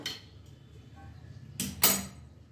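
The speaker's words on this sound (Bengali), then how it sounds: "এবার আমি ওই স্ট্যান্ডের ওপরে এই টিফিন বক্সটা বসিয়ে দিলাম।" A metal tiffin box is set on a stand inside a pan of hot steaming water, giving two sharp metallic clanks close together near the end after a faint earlier clink, with a quiet background.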